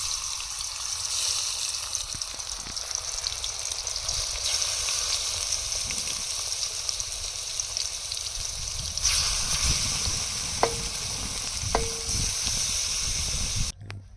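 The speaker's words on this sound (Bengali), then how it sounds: "তেল গরম হয়ে গেছে লবণ হলুদ মাখানো চিংড়ি মাছগুলো দিয়ে হালকা করে ভেজে নেব" Shrimp coated in salt and turmeric fry in hot oil with a steady, even hiss and sizzle, broken by a couple of light clicks near the end before the sound cuts off abruptly.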